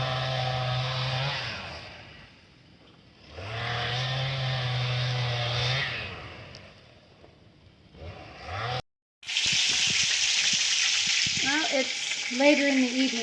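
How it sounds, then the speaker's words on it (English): Burgers sizzle in a pan outdoors on a windy spring evening, a steady close crackling fry that swells and fades in long stretches, broken by a brief dropout and a few faint tonal chirps near the end. "I'm making burgers right now"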